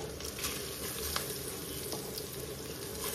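Washed rice going into a pot of browned, reddish onions sizzling in hot oil for a chicken pulao, giving a steady close frying hiss with faint stirring clinks and no talking.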